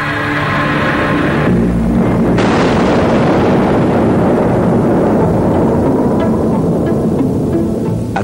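A huge, rumbling atomic bomb explosion, loud and sustained, with a deep roaring blast that swells and keeps thundering throughout, a sharp burst partway in and crackling debris toward the end.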